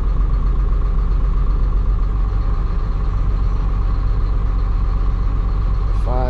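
A Caterpillar 3126E diesel engine idles loud and close with one injector cut out, producing a steady low rumbling throb that stays unchanged throughout, with a brief squeak near the end.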